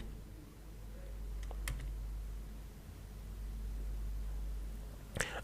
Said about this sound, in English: Now, I'll just type plan view, plan view